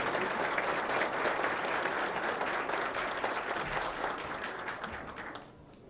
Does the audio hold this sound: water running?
no